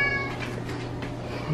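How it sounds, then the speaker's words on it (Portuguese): A crying house cat meows indoors in a new home, one drawn-out plaintive call, close and moderately loud, with no voices heard. "Temos um gato chorão."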